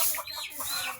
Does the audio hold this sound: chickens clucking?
yes